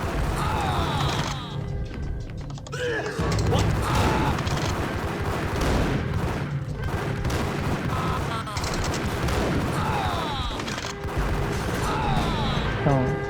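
Gunfire fills a Max Payne game shootout, with dense, loud bursts and crashing impacts mixed with clanking mechanisms, continuing steadily under game voices and someone speaking.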